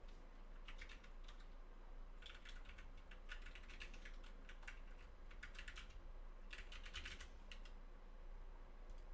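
Fingers type a password on a computer keyboard, quick clusters of light key clicks in several short bursts separated by pauses, close but quiet, over a low steady hum.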